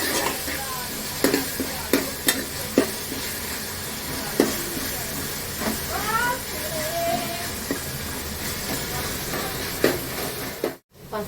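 Ginger garlic paste is stirred into chicken curry in a pan, with repeated spoon clinks and scraping over a steady sizzle. A cat meows in the middle, and the sound cuts out briefly near the end.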